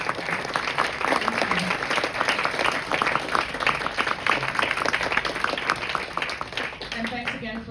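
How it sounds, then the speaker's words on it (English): Sustained audience applause for a guest speaker at an evening co-design talk, dense steady clapping that fills the room for the whole stretch, with a voice briefly audible near the end. "So a round of applause for our lovely guest tonight, for Madeleine Kessler and"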